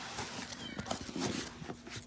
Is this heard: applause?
no